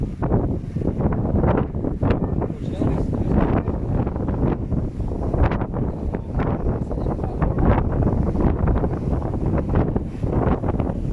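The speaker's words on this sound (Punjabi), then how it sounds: "ਹਵਾ ਚੱਲ ਰਹੀ ਹੈ।" Strong wind on a beach by the sea buffeting the microphone in continuous low, rumbling gusts, loud and close, with no voices.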